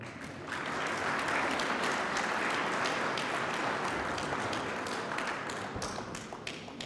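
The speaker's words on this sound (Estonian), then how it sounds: "Ma paluksin ka neile aplausi." At the Viimsi charity ball, the audience gives a steady, even wash of applause from many hands that swells in quickly and holds, heard at a moderate distance with no voices.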